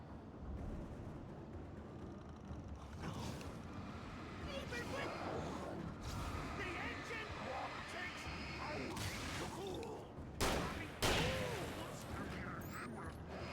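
Shotgun blasts from the video game Alan Wake, a few heavy booming shots over rumbling game noise, with a voice speaking over the action.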